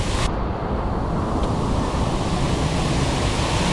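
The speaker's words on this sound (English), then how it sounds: "This is the greatest waterfall in the world." A huge waterfall roars as a loud, steady broadband rush of falling water, close and unbroken for the whole stretch, with no talking.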